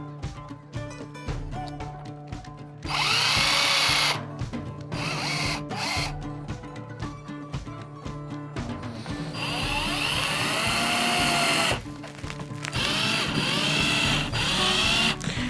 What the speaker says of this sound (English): thread this screw right into the plastic